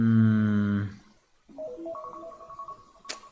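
A phone reminder ringtone plays a short melodic run of rising and falling electronic notes, clear and fairly close, after a brief sustained tone and a moment of quiet, ending with a sharp click.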